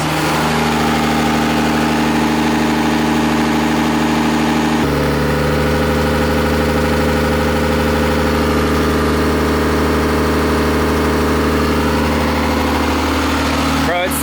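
A Cummins diesel engine idles in a Boss Hoss van, a loud, steady low rumble with constant vibration throughout, briefly shifting tone midway.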